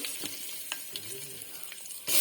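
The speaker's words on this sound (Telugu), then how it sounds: "తాలింపు వేసుకోవాలి ఫ్రెండ్స్. బీరకాయ కూరకి కరివేపాకు" Curry leaves hitting hot oil for a tempering for ridge gourd curry, a steady close sizzle and crackle with a few sharp pops and a stirring scrape.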